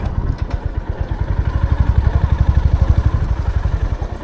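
A motorcycle engine idles close by with a steady, rapid low thumping that stays even throughout.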